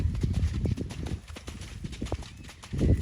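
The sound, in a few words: Welsh Cob horse trotting in sand arena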